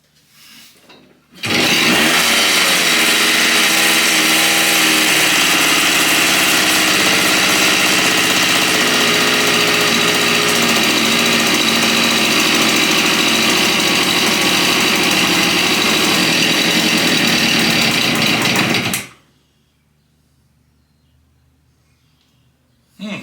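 A Kawasaki G4TR Trailboss engine fires up and runs loud and steady for about seventeen seconds with a buzzy, high-revving drone, then cuts out abruptly as it floods, leaving near silence.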